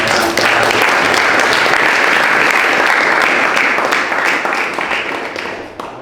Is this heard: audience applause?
yes